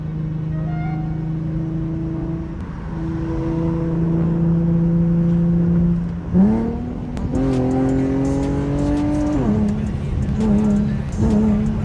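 Infiniti G37 with an ISR single exit exhaust on the road, loud and close, holding a steady drone before a shift, then rising hard under acceleration and dropping back to a throaty cruise.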